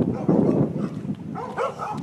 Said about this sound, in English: These are the ones I hear barking every fucking morning.